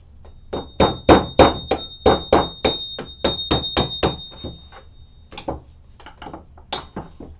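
Rapid metallic tapping of a hammer on a flat-tip tool removing a snap ring from a BMW E30 brake caliper, a quick run of a dozen sharp clinks, then a few scattered taps.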